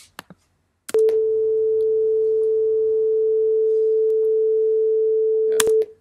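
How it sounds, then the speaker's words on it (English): A sampler plays a pure sine wave as a single steady, loud, harmonic-free tone lasting about four and a half seconds, bracketed by faint clicks at its start and end. "Because it's just a pure sine wave."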